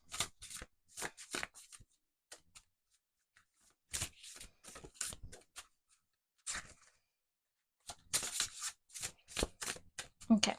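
Tarot cards shuffled by hand in bursts of crisp riffling and flicking, close and fairly quiet, separated by pauses and mixed with a person speaking.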